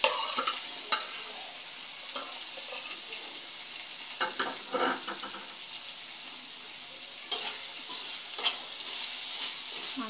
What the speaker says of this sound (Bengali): মাংসগুলো কষিয়ে নেব।